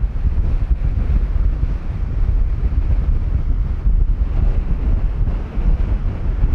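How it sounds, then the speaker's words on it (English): Strong wind roars steadily at a hillside slope used for flying a radio-controlled glider, heavy continuous buffeting across the microphone with no voices. "That's strong wind now."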